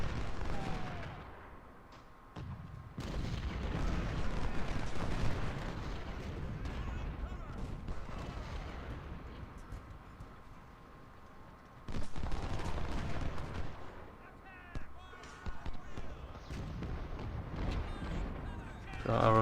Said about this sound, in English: So our artillery's decided it's not bothering to shoot at the ships anymore, it's going to shoot outside the fort